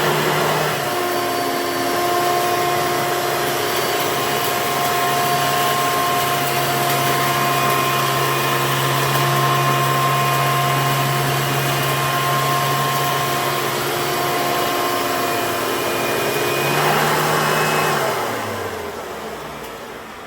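A Hoover Elite upright vacuum cleaner runs on a floor picking up scattered dirt, giving a loud, steady motor whine for about seventeen seconds before it switches off and winds down.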